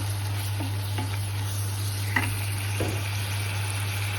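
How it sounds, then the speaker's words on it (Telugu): Capsicum fries in a pan for a paneer curry, with a faint even sizzle and a few light scraping stirs against a constant low hum, no voices. "ఇప్పుడు క్యాప్సికమ్ వేసేద్దామండి. వేయించిన క్యాప్సికము బాగా కలుపుకున్నాము."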